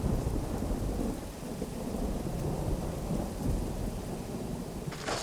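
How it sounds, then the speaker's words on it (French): Steady heavy rain pours over Metz, France, with low rolling thunder rumbling continuously beneath the downpour, loud and close throughout. "il pleut sur Metz."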